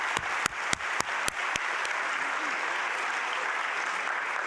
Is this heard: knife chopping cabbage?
no